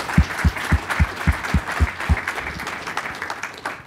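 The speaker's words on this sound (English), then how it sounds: "Please welcome him with an applause." Audience applause welcoming a speaker at PyCon 2014, opening with a run of loud, evenly spaced claps close by over a broader crowd wash that thins out toward the end.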